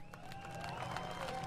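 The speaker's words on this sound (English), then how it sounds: "Give a big round of applause for the local hometown hero" Crowd applause with some cheering at a flat track motorcycle racing event for the main event winner, a continuous wash of clapping heard at a moderate distance with a faint tonal hum underneath.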